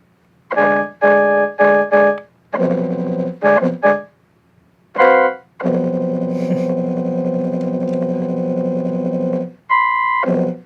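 Yamaha keyboard, modified with an N64 controller, playing its flute voice: sustained tones in short bursts and longer held notes, with a buzzy, warped quality.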